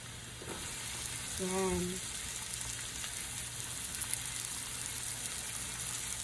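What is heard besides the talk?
sweet onion sizzling as it is added after garlic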